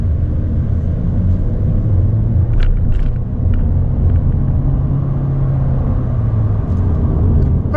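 A 2026 Honda Civic Sport, a front-wheel-drive compact sedan, accelerating on the road, heard from inside as a loud, steady low engine and road rumble with a few faint ticks and no talk.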